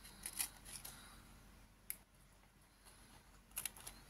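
Scissors snip through a folded glassine paper bag in a few quiet, crisp cuts spread over a few seconds, with no talk.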